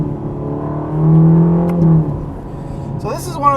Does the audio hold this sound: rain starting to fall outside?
no